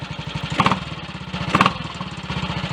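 A Triumph Tiger Cub motorcycle engine idles close by after being switched back on, a rapid steady single-cylinder putter with two brief louder blips, no voices.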